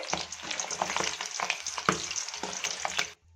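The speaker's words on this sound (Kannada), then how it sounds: "ಎಲ್ಲವನ್ನು ಗರಿಗರಿಯಾಗಿ ಫ್ರೈ ಮಾಡ್ಕೋಬೇಕು." Field bean mixture ingredients fry in hot oil until crisp, giving a dense, continuous sizzle with light stirring scrapes that stops abruptly at the end.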